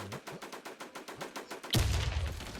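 Gunfire in a shooting video game: a steady, rapid string of evenly spaced shots crackles at moderate loudness, then a heavier, louder blast of noise takes over near the end.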